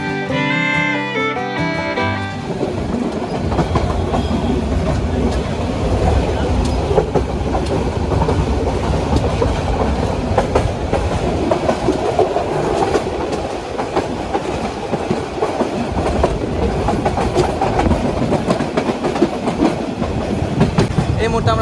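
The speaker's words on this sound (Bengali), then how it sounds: "এই আন্তনগর অগ্নিবীণা এক্সপ্রেসকে সেমি নন স্টপ ট্রেনও বলা হয়ে থাকে" The Agnibina Express intercity train rumbles along from Dhaka toward Jamalpur, a close, continuous roar of wheels and carriages with a steady clickety-clack throughout.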